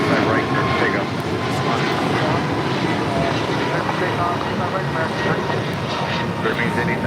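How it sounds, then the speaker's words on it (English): An ITA heavy airliner bound for Rome takes off at LAX, a broad, steady jet-engine roar holding loud and constant throughout, with voices talking underneath. "This is ITA 621 Heavy taking off to Rome"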